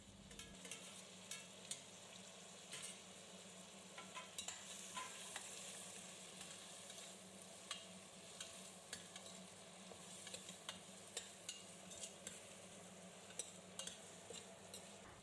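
Tomatoes and softened shallots stir-fried in a pan for Tamil dal rice, with a steady crackling sizzle and repeated scraping of the spoon along the pan, continuous and close, no voices.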